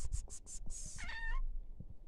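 A Siberian kitten in a village gives a short, faint meow after a few soft rhythmic sounds, in an otherwise quiet setting.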